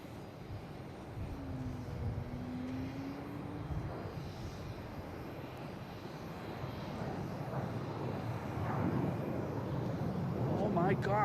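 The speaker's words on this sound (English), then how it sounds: "This is a JetBlue heading to San Diego." A JetBlue jet airliner bound for San Diego takes off from Boston Logan International Airport, its engine roar rumbling from a distance and swelling gradually over several seconds.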